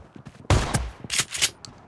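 Shotgun gunfire in a video game rings out as several loud blasts, the heaviest burst coming mid-clip and a final shot at the end, with quieter rumbling between.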